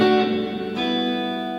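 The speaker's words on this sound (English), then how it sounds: "here's the reverb" Electric guitar played through a reverb pedal on a studio pedalboard, two sustained chords ringing out with a long washy tail, moderately quiet and clean with no voices.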